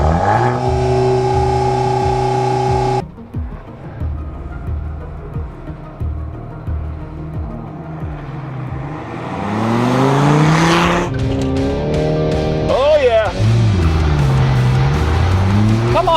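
A VW Golf R and a Dodge Viper launch at full throttle, engines revving hard with rising pitch sweeps through gear changes, tires chirping and loud roaring acceleration that passes close by.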